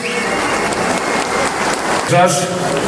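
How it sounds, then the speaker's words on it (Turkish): Crowd applause at an outdoor concert and public gathering in Gümüşhane, Turkey: a dense, steady wash of clapping with a voice briefly audible near the end. "Evet, kocaman alkış."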